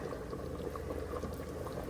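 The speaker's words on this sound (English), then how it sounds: "Just let it keep boiling." Cornstarch-thickened teriyaki sauce boils in an Instant Pot, a steady low bubbling and gurgling with no breaks, close and fairly quiet.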